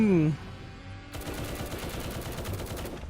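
Rapid, sustained automatic gunfire in the Roblox War Tycoon video game rattles continuously after a brief voice at the start, loud and dense.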